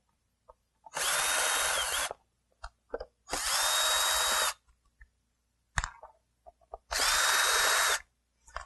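A power drill backs Phillips-head screws out of a plastic trim panel on the lower driver side of a 2000-2002 Chevy, three even whirring bursts of about a second each, near and loud, separated by light clicks and taps.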